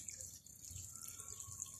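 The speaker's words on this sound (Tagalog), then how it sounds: "umaagos yung tubig, natuluan yung ating cellphone" Water runs and drips onto a cellphone in a Filipino home kitchen, making a continuous, close, hissy trickle with faint splashes and no talk.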